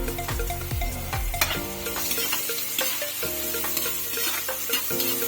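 Garlic, onion and ginger sautéing in a pan for a mussel dish, a bright crackling sizzle broken up by repeated metallic clanks and scrapes of a spatula stirring against the pan.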